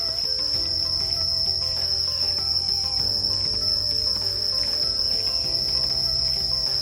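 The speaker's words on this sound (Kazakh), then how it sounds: "Ішін жәндіктердің дыбысы көп." Insects and grasshoppers shrill steadily in forest near the Saigon tunnels around Ho Chi Minh City, a constant high-pitched chorus over low rumbling background noise.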